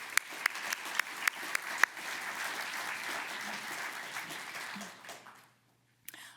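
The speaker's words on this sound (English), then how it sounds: "a warm welcome and a round of applause for the family and friends" Applause breaks out at an awards ceremony for the awardees' family and friends, opening with a few sharp claps before a sustained wash of crowd clapping that fades to silence, then a brief final patter.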